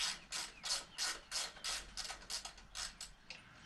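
A ratchet tightening a bolt and lock nut on the engine guard of a 2018 Harley-Davidson Sport Glide FLSB makes a quick series of close, crisp clicks in uneven short bursts.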